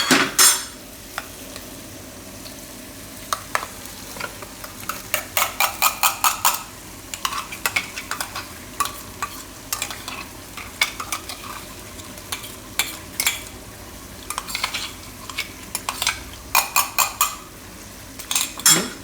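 Papdi muthiya curry is stirred with masala in hot oil: bursts of rapid metallic scraping and clinking of a spoon against the pan over a low, steady sizzle, with pauses between rounds.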